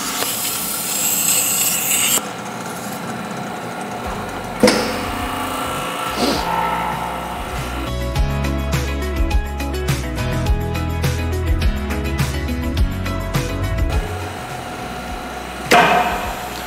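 A CETRO MV-SKINPACK skin pack vacuum packaging machine seals a small steak in a tray, running with mechanical hums, clicks and bursts of pumping, then a thump as the lid lifts on its own near the end, with no talk.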